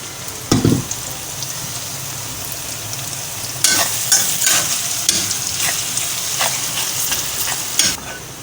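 Onions browning in oil in a pan as part of a beef paya chana recipe, a steady close sizzle with bright crackling bursts and a few stirring clatters, no talking.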